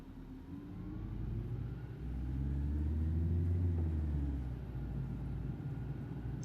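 A London Citybus B5LH in OMSI 2 accelerates, its engine giving a deep, steady rumble that swells in the middle and eases slightly toward the end, heard alone.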